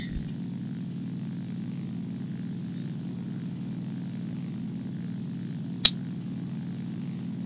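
A propeller-driven bomber droning steadily in the War Thunder combat flight game, a constant low engine hum alone throughout with one brief sharp click partway through.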